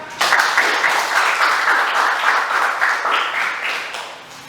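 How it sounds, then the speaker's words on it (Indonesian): A classroom audience claps for a classmate who has just presented a group discussion, steady, dense applause from many hands lasting several seconds before gradually tapering off. "Beri aplaus untuk teman kita."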